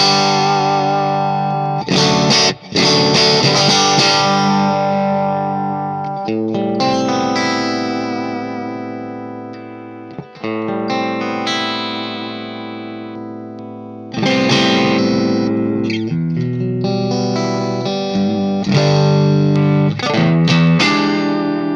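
Electric guitar through a Cat5 amp, distorted and effects-laden chords and riffs ringing out loud and full for about twenty seconds, with brief pauses between phrases and no talking.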